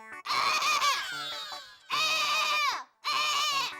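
A person imitates a goat's bleat with three loud, wavering, strained cries, each about a second long with short gaps between, and no other talk.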